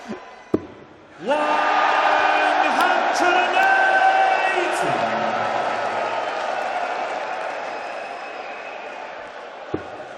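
Darts crowd at the German Darts Grand Prix erupting into loud, sustained cheering and whooping after a 180, starting abruptly and slowly fading over several seconds, with a commentator's voice over it.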